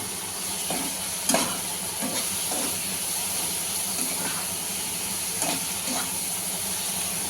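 Okra sautéing with turmeric and spices in a pan, a steady close sizzle broken by several scrapes and stirs of a spoon, with no voices.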